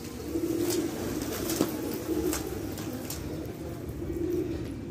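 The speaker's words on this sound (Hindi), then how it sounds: "कबूतर तो आ रहे हैं तोड़ों पे" Pigeons coo in soft repeated low calls against a steady background hiss, with a few faint clicks and no talking.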